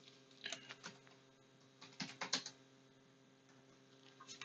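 Quiet computer keyboard typing while a survey title is entered: scattered short bursts of key clicks separated by pauses, light and close, with no voice.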